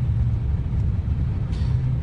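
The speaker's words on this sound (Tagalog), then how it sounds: "Traffic po sa EDSA." Road traffic on EDSA heard from inside a vehicle, a steady low engine and road rumble with a faint brief hiss partway through.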